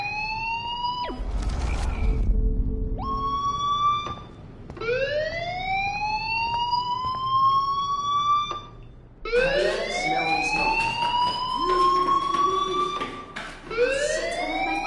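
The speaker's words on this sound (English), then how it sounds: "Hey, do you hear that fire alarm?" A fire alarm in the Life is Strange video game wails in repeated rising sweeps, each tone climbing then holding, several cycles in a row with brief gaps, loud and alone.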